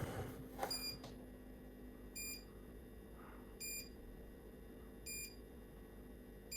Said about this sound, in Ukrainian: Пікає так, виключити. Все, не пікає.